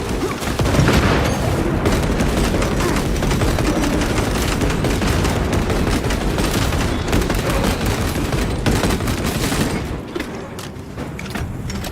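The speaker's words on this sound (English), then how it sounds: "Rock grenade deployed." A loud, dense barrage of gunfire with heavy booms, including a grenade blast, from combat in the Warhammer 40,000: Space Marine 2 video game, continuous and close before thinning slightly at the end.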